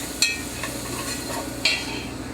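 Chopped garlic sizzles in a pan with rendered fat, a soft steady frying hiss broken by two sharp clatters of a utensil against the pan.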